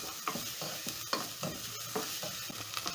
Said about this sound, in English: Stir in, and then I'm going to cook until a little bit golden brown.